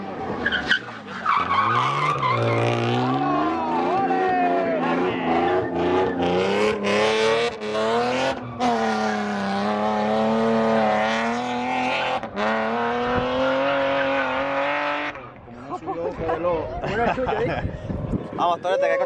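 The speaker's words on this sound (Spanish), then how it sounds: "Es un coche de carreras, ¿verdad?" A race car at a Velilla de San Antonio car meet revs hard and skids with long squealing tires, engine pitch rising and falling loudly up close, while people talk and shout over it.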